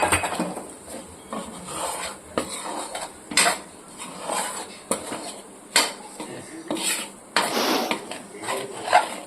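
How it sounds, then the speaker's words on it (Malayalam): A spatula scrapes and clatters against a metal pan as chilli powder is stirred and sautéed for a homemade murrel fish pickle, giving irregular close scraping strokes and knocks with no talking. "ഇനി ഇതിലേക്ക് ആവശ്യത്തിനുള്ള മുളക് പൊടി ചേർത്ത് നല്ലവണ്ണം വഴറ്റി എടുക്കുക."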